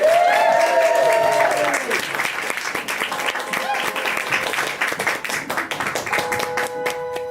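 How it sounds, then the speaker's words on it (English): A comedy lounge audience claps for comedian Phil Richardson, the crowd's clapping rolling on beneath a few sustained musical tones that open and return near the end. "Start clapping, please, Vicky."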